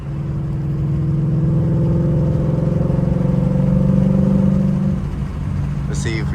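Ford Mustang GT S550 V8 heard from inside the cabin, a steady loud engine drone rising and falling through downshifts, then easing off near the end with a short higher burst.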